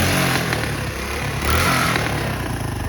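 A motorcycle engine runs close by with a rough, steady rumble, and the throttle swells briefly twice.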